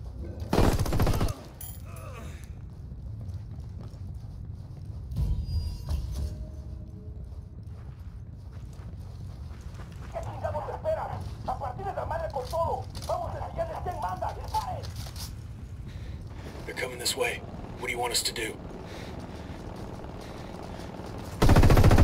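Gunfire in a firefight in the video game Ghost Recon Wildlands, with sharp single shots and short bursts scattered across the scene over footsteps and movement, while voices talk over the action.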